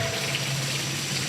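Steady rushing of hot water pouring from a tap, a constant broad hiss with a low hum beneath, close by.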